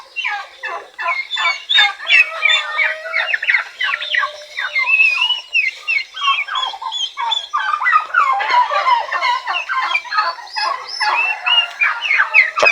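Breeder turkeys on a farm gobble and call over one another in a loud, nearly continuous chorus of overlapping warbling cries.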